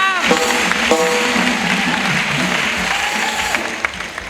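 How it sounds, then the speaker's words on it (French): A congregation at a missionary send-off in Côte d'Ivoire bursts into sustained applause, with voices calling and cheering above the even clapping before it gradually thins. "Let's clap."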